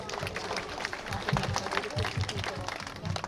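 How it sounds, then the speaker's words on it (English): An audience at a community school ribbon-cutting ceremony gives a round of applause, dense, sustained clapping with some voices mixed in. "You can give them a round of applause."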